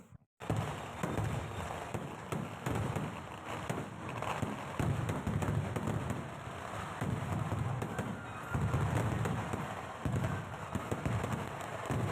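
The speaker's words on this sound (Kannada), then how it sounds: "ಸ್ವಲ್ಪನೂ ಗ್ಯಾಪ್ ಇಲ್ದೇ ಪಟಾಕಿ ಹೊಡಿತಾರೆ. ಸೌಂಡು ಅಂದರೆ ಸೌಂಡು." Continuous, dense crackling bursts of firecrackers going off with no gaps, loud and close, layered with deeper booming thumps throughout.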